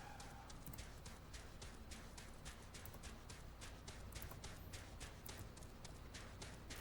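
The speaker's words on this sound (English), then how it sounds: "might be useful to go ahead and ride the chocobo back" Footsteps of a chocobo being ridden in Final Fantasy XIV: a quiet, steady, rapid patter of clip-clopping strides that runs evenly throughout.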